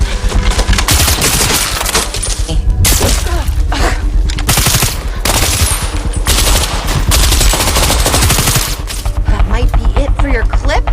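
Gunfire in a forest scene from an action film about a hitman fighting her former organization, with dense bursts of rapid automatic shots and loud booming reports filling the whole stretch, briefly dipping between volleys.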